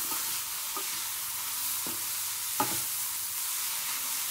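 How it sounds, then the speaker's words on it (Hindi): Cauliflower bhurji frying on high flame in a pan, a steady loud sizzle throughout with a few soft scraping knocks from the spoon as it is stirred, and no talking. "अच्छी तरह से मिक्स कर लेंगे, इसे हाई फ्लेम पे बस 2 मिनट तक पकाना है।"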